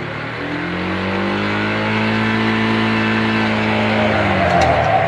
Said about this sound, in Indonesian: Bertenaga apa ora iki motor?